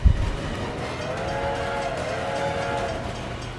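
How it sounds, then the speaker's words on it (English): A train rolls past in the video game Little Big Planet 2, a steady, sustained rumble with a droning horn-like tone running through the middle, loud and close throughout. "Why are there trains? Why did I almost get run over?"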